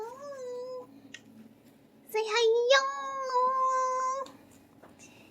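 A domestic cat meows several times, with drawn-out, wavering calls that come close and clear, while a person talks briefly nearby.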